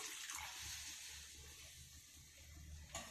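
About a glass and a half of water pours into a pot of taro curry, a continuous close gushing splash that tails off near the end.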